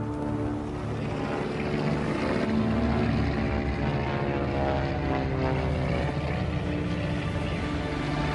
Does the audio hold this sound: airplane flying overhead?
yes